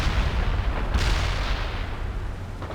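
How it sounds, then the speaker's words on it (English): Sustained gunfire from a machine gun in the World in Conflict strategy game, a dense continuous roar of rapid shots with heavy low rumble running throughout, loud and close with no talking. "Fires a machine gun."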